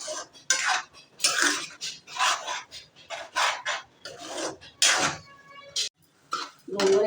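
A utensil scrapes and stirs a gongura, brinjal, dried prawn and egg curry in a pan over low flame, in a series of close, rhythmic rasping strokes with brief pauses between them.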